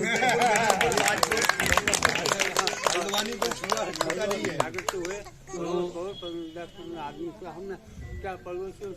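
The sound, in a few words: crowd clapping loudly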